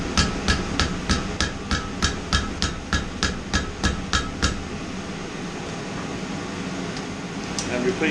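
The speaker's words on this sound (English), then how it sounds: "bend it over the bit with a hide mallet" Hide mallet striking heated steel for a door pull over a bit, about a dozen sharp, evenly paced blows in quick succession, then quiet hum of a room before a faint final knock.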